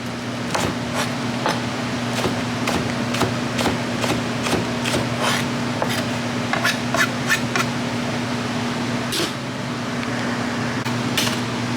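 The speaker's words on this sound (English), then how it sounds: "We have a knife sharpener here." A household kitchen knife is drawn through a knife sharpener in a series of quick, sharp scraping strokes, repeated about every half second, over a steady background hum.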